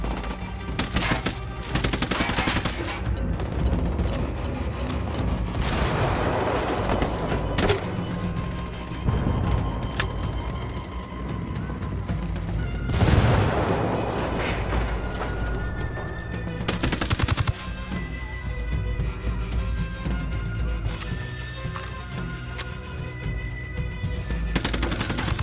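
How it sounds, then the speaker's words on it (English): Repeated bursts of automatic gunfire and single shots in the video game Ghost Recon Wildlands as Unidad forces engage the cartel, loud and sustained across the clip with game music and ambience underneath. "Shots fired. Unidad's engaging the cartel."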